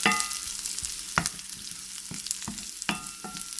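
Chopped okra fries in a pan, a steady crackling sizzle with periodic scraping knocks from stirring, close and continuous with no talking.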